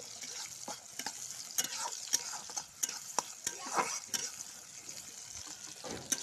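Onions and chillies fry in a pan while being stirred, a steady close sizzle broken by repeated scraping strokes of the spoon, with no voices.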